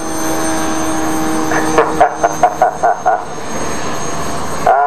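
A large model aircraft engine of 340cc drives a full-size aeroplane propeller at an outdoor show, giving a steady drone, with a run of short rhythmic bursts partway through.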